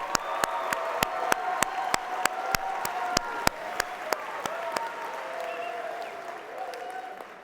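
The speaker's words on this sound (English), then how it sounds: "Let's give them another huge round of applause." A convention crowd applauds its session sponsors, with one loud, regular nearby clapper keeping a steady beat over softer applause, cheering and crowd voices, gradually fading toward the end.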